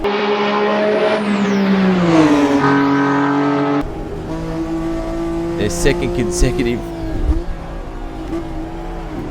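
A 1992 Winfield Nissan touring car in Assetto Corsa roars loud and close, its engine note rising and dropping through gear changes, with a voice talking over the racing sound throughout.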